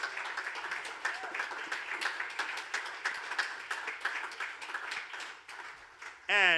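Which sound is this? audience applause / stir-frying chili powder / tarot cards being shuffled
audience applause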